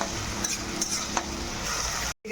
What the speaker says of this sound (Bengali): তেল ছেড়ে দিয়েছে, ভাজা ভাজা হয়ে গেছে টমেটোটা।